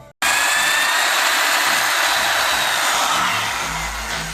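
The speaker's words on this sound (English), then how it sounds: "just mark that up with my drill" A drill boring a scotch key slot in a Lotus Esprit V8 part, starting abruptly and running as a loud, steady high whine close by, easing slightly toward the end.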